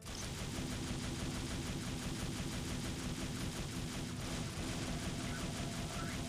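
Rapid gunfire from a switched weapon in the video game Devil May Cry, a dense continuous barrage of shots filling the whole stretch at steady loudness, with no speech.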